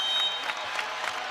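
Crowd noise fills a volleyball arena during a Creighton versus Louisville ACC match, a broad, steady wash of cheering and clapping at moderate level with faint swells.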